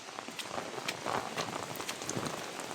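Monsoon rain in the green Konkan countryside, a fairly faint, steady patter of drops on surfaces with scattered sharper splashes and no voices.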